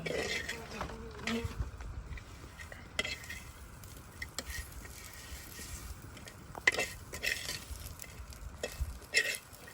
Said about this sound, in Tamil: இப்போ பார்த்தீங்கன்னா நெத்திலி கருவாடை நம்ம வந்து வதக்கி முடிச்சிட்டோம்.